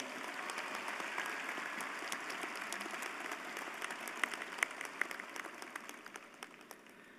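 A commencement crowd applauds the ASL interpreters at a college graduation ceremony, fairly faint, distant clapping in a large hall that holds steady, then gradually thins and fades.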